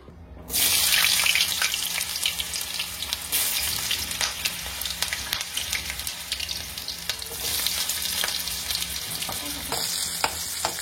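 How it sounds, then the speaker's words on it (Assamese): Potatoes fry in hot oil in a wok, giving a loud, constant close sizzle with stirring clatter and occasional scraping clicks, starting suddenly after a brief quiet moment and carrying on without any talking. "এইখন কেৰাহীত তেল দিয়াৰ উদ্দেশ্যটো হৈছে আলুখিনি প্ৰথমতে ফ্ৰাই কৰি লওঁ"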